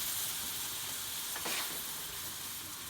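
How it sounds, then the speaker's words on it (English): Quiet, steady sizzling of a sauce with almond milk in a frying pan, a soft continuous hiss with a brief swell of frying near the middle. "You want it to sizzle a little bit."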